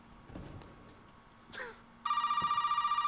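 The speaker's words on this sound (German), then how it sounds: "Ach, du scheiß Telefon." A telephone rings in the survival horror game Resident Evil 7, with a steady, loud, rapidly pulsing electronic bell that starts abruptly and goes on, after faint movement noises and a brief muttered voice.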